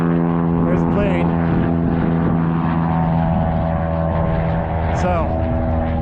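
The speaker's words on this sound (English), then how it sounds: "because of the airplanes flying overhead" A propeller airplane flies low overhead near Buttonville Airport, a loud, steady droning engine hum with strong tonal harmonics that holds throughout, with a brief voice heard over it.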